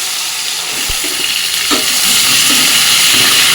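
Soaked green banana and potato pieces frying in hot oil make a loud, steady hissing sizzle that swells after a soft thump, continuing without any talk.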